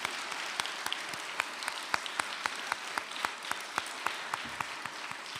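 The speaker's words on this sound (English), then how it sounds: "let's have teachers stand up so we can give you applause" A crowd applauds teachers at a school chapel gathering, with steady, dense clapping at a moderate distance and occasional sharper individual claps standing out throughout.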